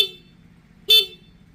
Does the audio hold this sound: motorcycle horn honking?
yes